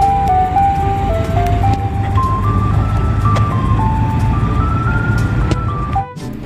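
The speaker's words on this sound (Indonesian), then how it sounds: "Yang ini ada mobil es krim." A toy ice cream truck plays its tinkly electronic jingle, a stepping melody running steadily and loudly up close over a low hum. It cuts off with a click near the end.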